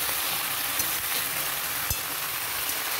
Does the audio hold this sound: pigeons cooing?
no